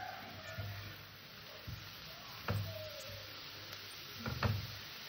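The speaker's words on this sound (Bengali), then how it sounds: "শাকটাকে আমি হালকা নেড়ে চেড়ে এভাবে একটু ভেজে নেব।" Chickpea greens frying in a pan give a soft, low sizzle, with a few scattered stirring knocks and scrapes as they are turned. Quiet and close.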